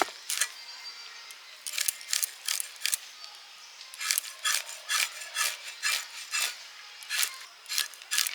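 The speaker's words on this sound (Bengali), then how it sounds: "এটা ফলি মাছ কাটছি বাজার থেকে নিয়ে এসছে" A folui fish from the market is cut with repeated rough scraping strokes in quick uneven bursts, close and fairly loud, with brief pauses between groups of strokes.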